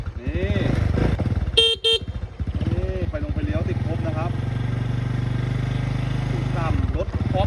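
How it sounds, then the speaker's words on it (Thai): A motorcycle with its stock exhaust runs close by at a smooth steady idle with a low continuous drone, briefly interrupted by a sharp horn-like toot and faint voices in the background. "เดี๋ยวมาฟังเสียงเครื่องกันครับ ว่าจะนิ่มแค่ไหน"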